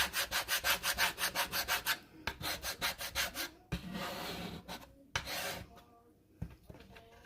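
Wood is scraped by hand in quick, regular rasping strokes, a rhythmic run of about a dozen passes, then longer drawn scrapes and pauses, loud and close with no voices.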